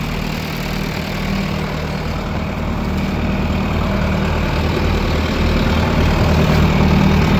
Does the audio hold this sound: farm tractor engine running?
yes